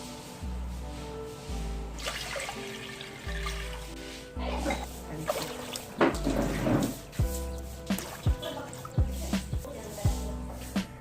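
Water is poured tumbler by tumbler into a cooking pot for pepper pongal, giving repeated splashing pours with drips and short pauses between them.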